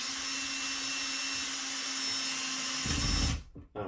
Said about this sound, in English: And then we use our old drill